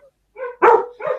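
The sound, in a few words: dog barking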